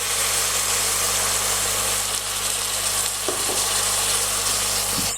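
Red Shiraz wine poured into a hot pressure cooker for spaghetti Bolognese sizzles loudly and steadily, a close, continuous hiss with a faint stirring scrape near the end.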